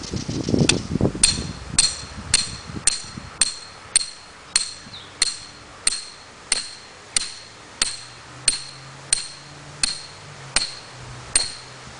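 A one-pound metal hammer strikes a canopy tent stake in a steady, evenly spaced rhythm, about a dozen sharp ringing hits, close by with no talking.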